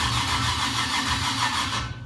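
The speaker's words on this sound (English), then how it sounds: "it's just about ready to start, and we'll see how it sounds with the new carburetor" A 1957 Chevy gasser's engine, fitted with a new carburetor, cranks and churns in a loud, steady rumbling drone close by, then cuts off abruptly at the end without catching, with no voices.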